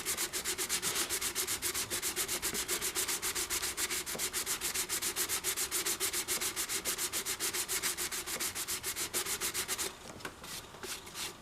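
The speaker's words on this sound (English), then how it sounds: "You just want to sit here and just sand and sand." Hand sanding on a doll with sandpaper: fast, even, close rasping strokes repeat continuously, slowing into a few scattered strokes near the end.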